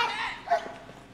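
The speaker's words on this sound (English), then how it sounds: "Meet Staff Sergeant John Koh and his dog Spike." A military working dog with a canine security unit gives a single brief bark, heard close and over a faint background hum.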